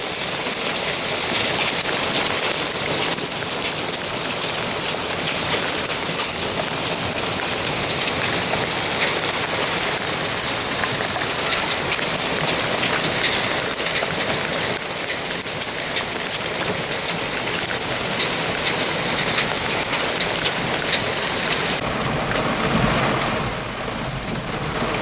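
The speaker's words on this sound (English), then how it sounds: "hailstorm at home, even though they're all little." Hail from a 2011 Chicago summer storm pours down steadily for the whole stretch, a dense, loud, unbroken hiss and patter with no voices.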